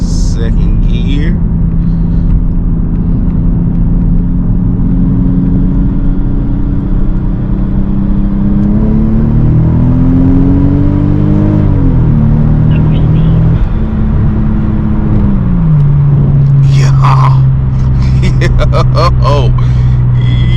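A Toyota Aristo fitted with a Greddy front-mount intercooler pulls hard in second gear, its loud, steady engine drone rising and shifting pitch as it hits boost cut.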